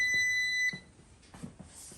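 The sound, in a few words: ComfortBilt HP22-N pellet stove power-on jingle beep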